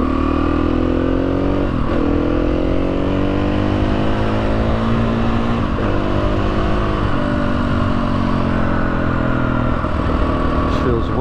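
A Husqvarna TE310R motorcycle being ridden, its engine loud and continuous at close range, with pitch rising and falling through repeated gear changes and wind rush over the top.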